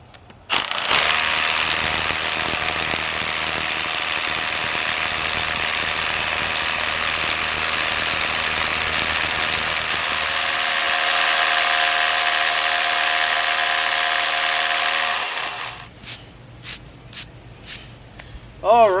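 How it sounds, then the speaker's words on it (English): A power drill bores into rock with a loud, steady, harsh grinding whir for about fifteen seconds, then winds down, leaving quieter clatter and a brief burst at the end. "Next, I'm going to show you drilling into the rock"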